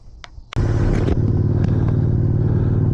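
A Yamaha R7 motorcycle on a road test starts pulling away after a few light clicks, its engine rising into a loud, steady, close rumble that holds to the end.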